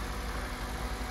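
A black Hyundai car's 1.5-litre engine idles just after being started, a steady, even hum at close range with no voices.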